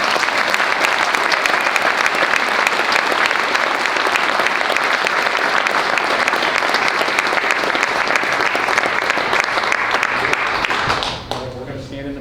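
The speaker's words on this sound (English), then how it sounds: "So please give them a round of applause." A civic audience at Springfield, Oregon's 2024 State of the City event gives a dense, steady round of applause that fills the room for about eleven seconds before quickly tapering off.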